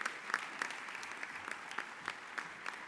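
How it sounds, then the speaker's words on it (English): An audience at a softball hall of fame induction ceremony gives a round of applause, heard faint and distant as a steady patter of many hands clapping. "please give Carol and her staff a round of applause"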